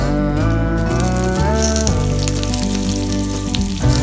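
Bay leaves and onions frying in a pan with ginger garlic paste outdoors for wheat rava pongal, a steady loud sizzle running throughout with a sustained tonal hum layered over it.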